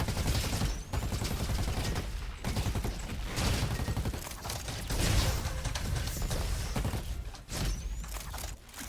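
Sustained automatic AK rifle fire in the robot-shooting video game RoboQuest, dense rapid bursts almost unbroken across the whole stretch with brief gaps, loud and close with metallic impact clatter.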